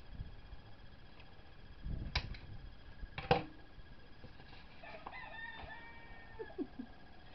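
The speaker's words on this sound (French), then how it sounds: "Ce coq me rend dingue." A rooster crows somewhere off at a distance, one drawn-out rising and falling call late on, faint over a quiet indoor background broken earlier by a couple of sharp knocks.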